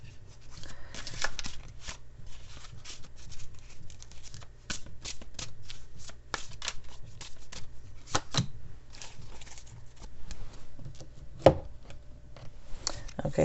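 Tarot cards are shuffled by hand, giving quiet, rapid papery riffles and flicks in irregular bursts with occasional sharper taps, close and soft throughout.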